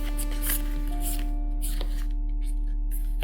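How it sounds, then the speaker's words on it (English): Playing cards shuffled by hand, a fast, steady riffle of papery flutter running the whole time under a low constant hum, with no talking. "Shuffle it."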